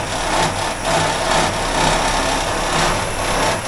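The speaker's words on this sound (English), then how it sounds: "Something's rattling somewhere." A Chevy 283 V8 runs steadily at a slow idle, its broadband mechanical clatter carrying a persistent rattle close to the microphone, with no voices over it.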